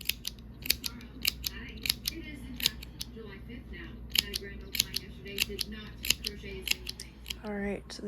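Scissors snip repeatedly in sharp, close, irregular clicks while trimming the edge of a quilt, with a quiet voice talking underneath.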